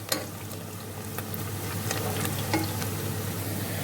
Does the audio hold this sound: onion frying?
yes